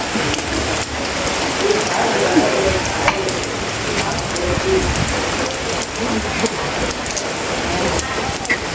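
Steady rain falls across an outdoor rural yard where a tamarind tree is being cut down to clear ground for a house, a dense continuous patter filling the whole stretch, with faint voices mixed in beneath.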